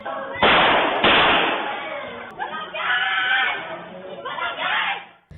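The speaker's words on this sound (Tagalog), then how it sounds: "narinig sa CCTV ang ilang putok ng baril at sigawan ng mga tao sa lugar" Two sharp, loud gunshots in quick succession, followed by several voices shouting and crying out, all thin and muffled as picked up by a distant CCTV recorder.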